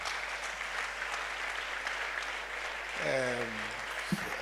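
An audience at an International Day of the Boy Child event claps steadily in a dense, even wash of applause, with a brief voice rising near the end.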